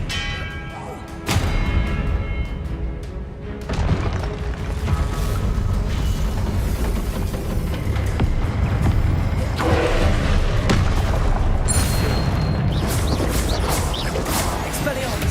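Spell explosions and combat effects in the Hogwarts Legacy video game, a dense, continuous wash of booms, rumbles and magical bursts layered over game music, with voices calling out spells throughout.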